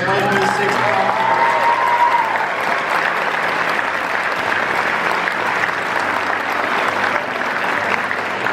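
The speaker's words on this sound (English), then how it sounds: "One last round of applause for our 2026 Prom King." Applause for the prom king at a school prom coronation, a loud, dense crowd clapping that holds steady for several seconds, with voices mixed in near the start.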